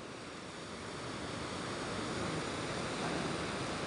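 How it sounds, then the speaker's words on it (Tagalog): Small sea waves lapping near a boat, a steady broadband wash of surf and water noise that swells slightly and holds constant, with no voices. "Wala mo ng problema yung alon na yan, maliliit yan."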